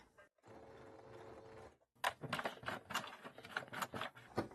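A sewing machine stitches bias binding on fabric, a low steady motor hum for a couple of seconds, then a brief pause before a quicker burst of rhythmic clattering needle strokes, close and fairly quiet.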